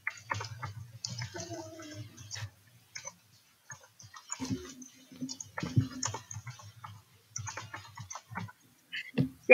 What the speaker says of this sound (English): I was just typing that in.